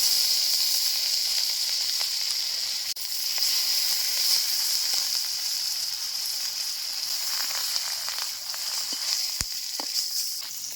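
Pieces of katla fish, a large freshwater carp, frying in hot oil in a kadai, giving a steady, bright, close sizzle with a few faint clicks and no talking.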